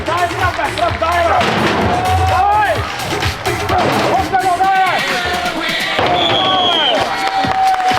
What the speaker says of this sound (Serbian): Ajmo jedan veliki aplauz sada